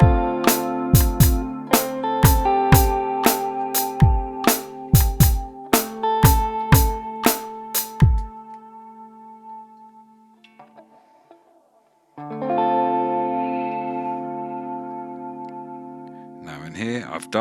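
Plucked electric guitar notes through a Boss GT-1000 ring out in a rhythmic pattern, then sustained chords wash in with a dark, spacious reverb and shimmering chorus modulation.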